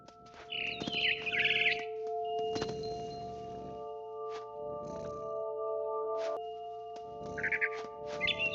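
Mama bird in the video game What Remains of Edith Finch giving bright, repeated chirps and trills in short bursts near the start and end, over a quiet, hollow outdoor ambience with soft knocks.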